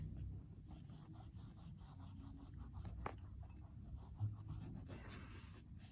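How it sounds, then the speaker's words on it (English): A heavy eraser rubs on sketch paper in quick, faint back-and-forth strokes, a soft continuous scratchy friction close up with no talk. "Let's get the heavy eraser out here."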